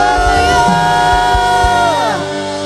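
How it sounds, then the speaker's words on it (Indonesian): A church congregation at a Sunday service cheers and shouts hallelujah together, a loud sustained crowd roar with whoops and raised voices over a droning musical backing. "Boleh berikan sorak-sorai, lebih lagi sorakan haleluya."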